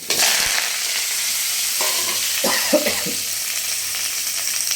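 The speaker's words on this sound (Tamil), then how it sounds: "ஏழு தக்காளி கருவேப்பிலை உப்பு வத்தல் இது எல்லாத்தையும் ஒன்றா போட்டு வதக்கிக்கலாம்" Tomatoes, curry leaves, salt and dried chillies dropped into hot oil in a pan, with a loud, dense sizzle and a few crackling bursts and stirring clatters, close and continuous.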